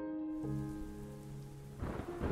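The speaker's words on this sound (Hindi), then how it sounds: "अचानक से बारिश क्यों शुरू हो गई है? अभी इतनी गरज और बिजली के साथ" A sudden thunderstorm with heavy rain, steady downpour under a low rumble of thunder, joined by sustained tonal music that fades out, then a louder burst of rain and thunder near the end.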